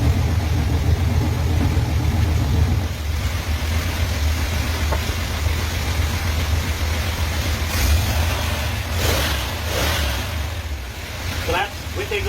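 A car engine idles through a 3-inch exhaust with the electric cutout closed, a steady low rumble that holds evenly throughout, with a few faint rev blips near the end.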